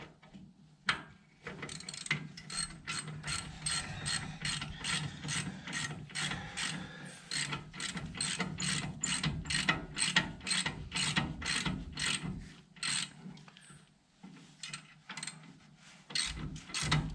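A ratchet tightens the top bolt on a Chevy truck, producing a long run of close, crisp clicking strokes in a fairly regular rhythm, with a brief pause near the end before a few final clicks.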